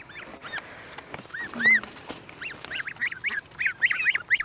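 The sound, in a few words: goslings honking and quacking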